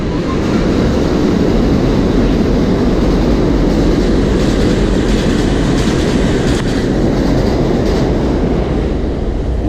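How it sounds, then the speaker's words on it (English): An elevated subway train rumbles loudly overhead along Roosevelt Avenue in Jackson Heights, Queens, a continuous close roar with clattering wheels and rattling metal that never lets up. "When the train goes by, those metal sheets shake."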